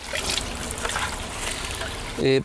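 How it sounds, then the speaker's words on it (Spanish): A little water trickles and then splashes briefly into a basin holding an aquatic insect sample collected by net, soft at first with a short louder pour near the end. "Echamos un poquito de agua."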